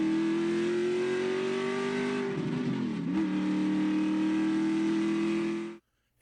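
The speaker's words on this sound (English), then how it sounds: "I saw this remote control car." A Sharper Image remote control toy car whines with a steady, high electric motor tone that dips and wobbles midway before holding steady again, then cuts off abruptly near the end.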